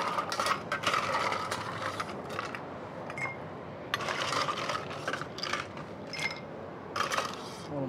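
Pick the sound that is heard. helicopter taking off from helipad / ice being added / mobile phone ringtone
ice being added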